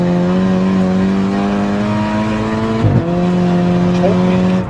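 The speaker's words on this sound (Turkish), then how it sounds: "Hızlanırken viraja giriyorsun ve köklüyorsun." A VW Golf MK6 GTI Stage 4 accelerates hard into a corner, its engine a loud, steady drone with a brief dip and roughness near the end of the run; no speech.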